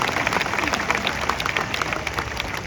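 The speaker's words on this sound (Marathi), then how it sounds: "जोरदार टाळ्या वाजवून त्यांचं या ठिकाणी स्वागत करूया" A large audience at a sculptors' convention in Parel applauds loudly to welcome a state cabinet minister, a dense continuous burst of clapping from many hands with crowd noise underneath.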